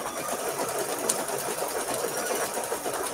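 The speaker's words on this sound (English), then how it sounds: "now we're going to stitch that blanket stitch to stitch it down" A sewing machine stitches a blanket stitch to hold down an appliqué, running in a steady, fast, even whir for the whole stretch at close range with no talking over it.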